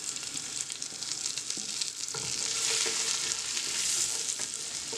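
Onion frying in a pot that has just been used to fry shrimp: a continuous hissing sizzle that swells slightly toward the end, with soft stirring scrapes and no talking.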